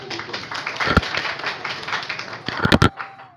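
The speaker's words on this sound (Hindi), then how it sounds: "ताली बजा के हौसला अफजाई किया करें यार।" Audience at an Urdu poetry recital in a mushaira hall, clapping in a loose, moderate round that swells briefly near the end with a few sharper claps, no talking.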